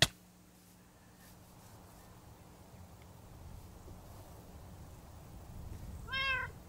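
A cat meows once in Minecraft, a short, fairly clear call near the end after several quiet seconds of low background game ambience.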